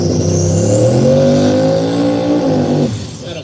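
A big-tire Run What You Brung drag race car, a full-blown machine, revs loudly and steadily up close with a rich rumbling roar, holding for nearly three seconds before the engine cuts off and fades.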